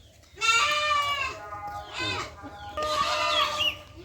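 Young female Totapuri goat kids bleat in loud, wavering cries at a livestock market, two bursts with a short gap between, close by and mostly alone over faint background noise.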